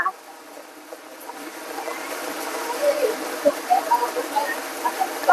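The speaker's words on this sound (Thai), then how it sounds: "ฝนตกเลยค่ะ" Rain falling steadily in a rural Thai village, a dense, even hiss with scattered drips and splashes growing heavier, under a voice and other chatter.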